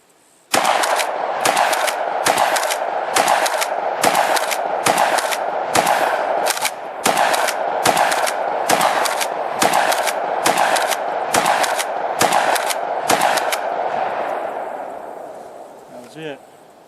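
A UTAS UTS-15 shotgun fires about fifteen loud, close blasts in steady succession, each sharp report followed by a brief ringing decay, with a final fading echo after the last shot.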